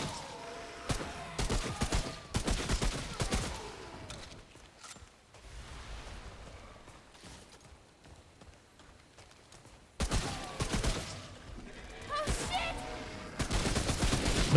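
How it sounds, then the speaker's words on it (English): Enemy shotgun fire in the video game Remnant: From the Ashes, dense bursts of loud overlapping gunfire in clusters with a quieter stretch of ambient game noise between them. "So these guys are using shotguns."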